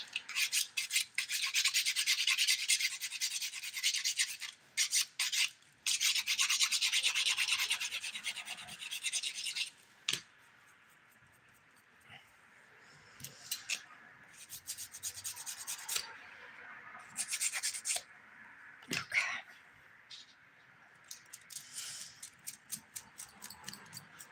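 An Ergo nail file rasps over shimmer-polished nails in quick, close, scratchy strokes, coming in dense bursts with short pauses throughout.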